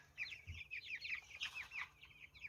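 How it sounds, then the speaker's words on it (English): Chickens clucking in an orchard, a chatty run of short repeated clucks and soft calls from several birds close by, with a brief low thump near the start. "Oh, you beautiful chickens."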